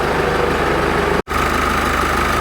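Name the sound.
Jeep 2.8 litre common rail diesel engine idling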